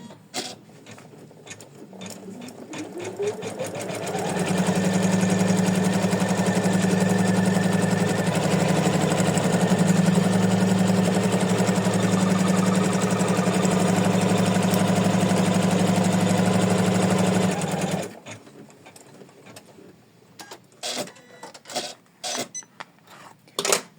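An embroidery machine stitching a placement line on tearaway stabilizer in a hoop, running as a fast, steady, close mechanical whirr for about thirteen seconds after a short ramp-up, then stopping, followed by light clicks.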